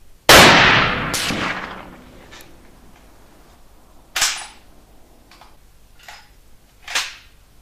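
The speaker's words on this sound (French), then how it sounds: "On va retenter une série" A rifle fires cartridges in a test series: a loud sharp shot with a trailing echo, followed by fainter clicks and two more shots some seconds apart, all outdoors.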